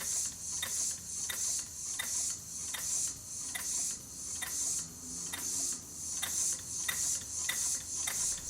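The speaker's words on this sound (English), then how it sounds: "There is a slight ticking in the bottom end. I think it's coming from the connecting rod" Home-built steam engine running without gaskets on about 6 psi of steam, a steady hiss carrying a light, regular ticking from the connecting rod in the bottom end, close and fairly quiet.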